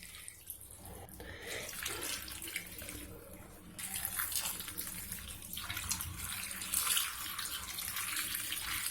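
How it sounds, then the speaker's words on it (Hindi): White vinegar poured steadily over tamarind in a container, a continuous close splashing trickle that swells and thins without a break for several seconds. "विनीगर को इसमें डाल देंगे"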